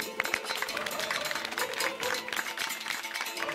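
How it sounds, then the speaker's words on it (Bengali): A studio audience claps during a Bengali TV game show, with steady, dense applause of many hands sustained for several seconds at a moderate distance. "সবাই একটা হাততালি দিই আমরা প্লিজ।"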